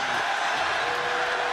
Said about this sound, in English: the crowd doesn't like that stoppage